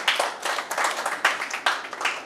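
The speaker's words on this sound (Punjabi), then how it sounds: "ਆਪਣੇ ਚਾਚੇ ਲਈ ਤਾੜੀ ਮਾਰ ਦਿਓ ਪਲੀਜ਼" An audience at an honor ceremony claps in a burst of close, crisp hand claps that continues steadily for a couple of seconds.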